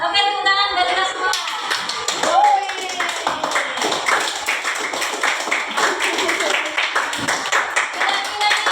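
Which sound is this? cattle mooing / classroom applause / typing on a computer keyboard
classroom applause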